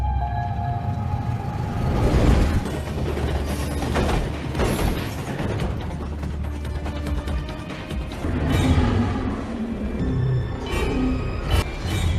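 A train rumbles loudly and continuously, with clanking metal, screeching and a siren-like wail in a dense, noisy mix, during an Argo Semeru train collision with an oncoming train.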